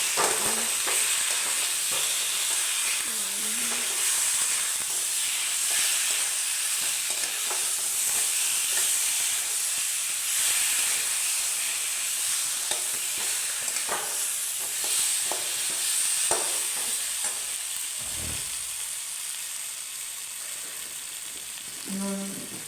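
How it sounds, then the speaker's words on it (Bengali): A spice paste of ground ginger, dried red chilli paste and turmeric fries in a pan for a dahi vada dish, sizzling steadily and close up, with occasional stirring scrapes over the hiss. "মশলাটাকে একটু ভেজে ভাজা ভাজা করে নিচ্ছে"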